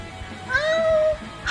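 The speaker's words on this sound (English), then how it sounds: "There's a cat sniffing your shoe." A cat meows once in a drawn-out, rising and falling call, fairly close and clear over a low background rumble, with a short higher-pitched cry starting at the very end.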